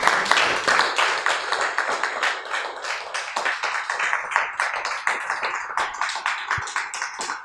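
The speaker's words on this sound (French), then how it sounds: "sous vos applaudissements" A live audience claps and applauds to welcome a guest named Marlène Kassongo, a dense, steady wash of many hands at close range that carries on without a break.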